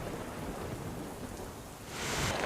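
Heavy downpour over the city and villages of Bhavnagar, a dense, continuous roar of rain that swells louder toward the end, with a low rumble underneath.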